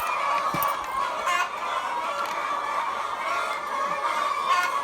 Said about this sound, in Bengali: মুরগিগুলা এমন চিৎকার বাড়তেছে